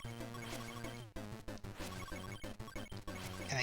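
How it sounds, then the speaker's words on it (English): In the Virtual Boy game Wario Land, money rains down as a busy cascade of chiptune blips and jingles, with rapid repeated notes over game music, quiet but dense and continuous. "that is the sound of money falling from the sky!"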